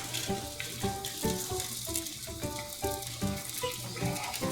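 Broccoli sizzles and fries steadily in a hot pan with oil for shrimp primavera, a continuous close hiss with rhythmic tonal sounds layered over it.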